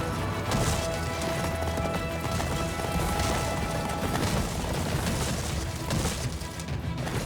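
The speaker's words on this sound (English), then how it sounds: "This horse can really book it." In the Attack on Titan video game, a galloping horse keeps up a long, steady stream of hoof impacts mixed with crashing game effects, loud and unbroken.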